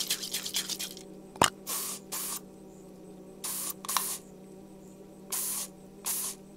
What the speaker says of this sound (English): Time to pick up the spray paint.